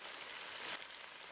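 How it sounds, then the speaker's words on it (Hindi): Heavy rain falls on a riverside village, a steady broadband hiss of drops pouring down close by with a brief swell near the middle and no voices. "दोपहर होते होते बारिश थोड़ी कम हो जाती है।"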